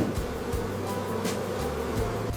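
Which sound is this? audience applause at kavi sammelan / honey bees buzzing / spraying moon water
honey bees buzzing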